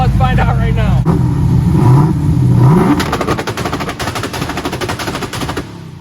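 A nitrous small-block Ford engine revs loudly and then fires a rapid two-step staccato of pops, like machine-gun bursts, aimed at a pumpkin, with voices talking over the engine noise.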